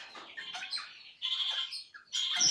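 Pet parrots chirp and tweet in quick bursts, bright and close, with short squawky calls and brief pauses between flurries.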